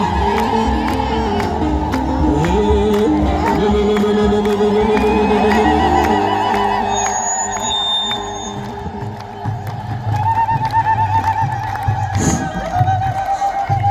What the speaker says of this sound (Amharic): የታል እልልታ